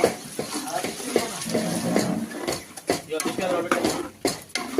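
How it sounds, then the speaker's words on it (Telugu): Water goes into a pan of prawn and fenugreek-leaf curry, with splashing and clinking utensils close by while someone talks. "ఇప్పుడు నీళ్ళు వేసుకుందాం"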